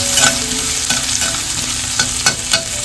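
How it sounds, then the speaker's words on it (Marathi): Chopped onion sautés in hot oil with mustard seeds and cumin in a kadai, a steady sizzle broken by several sharp scraping stirs of a spoon, close and fairly loud, with no talking. "कांदा, व्यवस्थित कांदा परतवून घ्यायचा."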